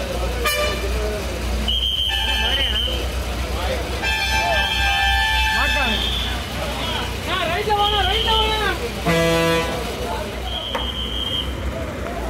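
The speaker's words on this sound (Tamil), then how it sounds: "நம்ம வண்டி கிளம்பிருச்சுங்க" A TNSTC night bus departs with a steady low engine rumble while horns toot in repeated short and long blasts and several people talk nearby.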